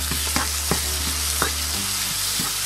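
Okra and tomato sauté in hot oil for a Tamil vendakkai puli kuzhambu, giving a steady close sizzle broken by several crisp stirring scrapes, with no talk.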